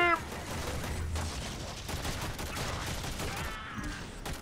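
Dense rapid gunfire from the video game Warframe during a boss fight, sustained bursts filling the whole stretch at moderate loudness, with a voice briefly mixed in.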